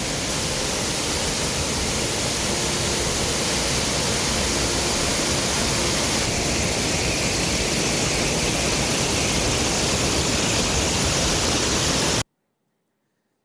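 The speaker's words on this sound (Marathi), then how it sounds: "अहिल्यानगरमधील कळमजाई धबधबा प्रवाहित झाला." Kalamjai waterfall near a temple, running full after continuous monsoon rain, pours as a steady, dense roar of rushing water that holds unbroken and loud for about twelve seconds before cutting to silence.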